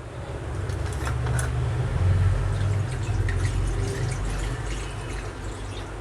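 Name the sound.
pouring water into a kadai on the gas stove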